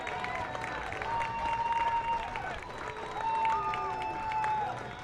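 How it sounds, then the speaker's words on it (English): Crowd at an amateur baseball game in Williston cheering and applauding after a double play, a steady faint wash of distant clapping and voices with soft whistle-like tones rising above it. "And the crowd likes that one."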